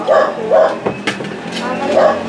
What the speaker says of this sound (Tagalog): Ingay ng aso sa labas.